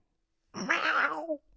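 A person imitates a cat's screech: one drawn-out, strained yowl rising and falling, loud and close, lasting under a second.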